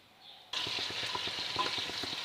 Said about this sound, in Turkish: Biraz da soğanla Ətlərimi qovuracam.